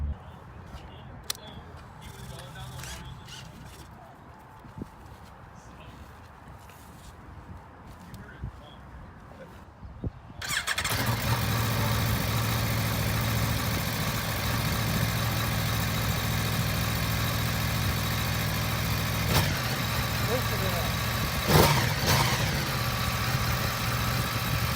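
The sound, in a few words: 2019 Aprilia Tuono 1100 Factory motorcycle engine starting and idling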